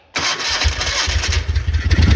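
A Moto Guzzi Eldorado motorcycle engine cranks and fires up loudly after a brief silence, settling into a close, uneven, lumpy idle with its cold engine pulsing.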